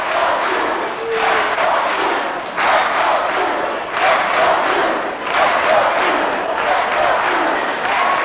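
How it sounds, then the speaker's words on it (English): A packed gym crowd at a 1996 high school basketball game between Brunswick and Strongsville chants in loud rhythmic bursts, with cheering and thuds filling the gaps. "The crowd chanting, let's go blue."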